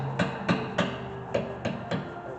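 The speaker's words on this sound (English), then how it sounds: "Lightly tap them with a hammer to get them to move." Six sharp, light hammer taps on rear electric brake parts of a 2015 Lexus NX200t, spaced irregularly over a couple of seconds, close and clear against a faint background hum.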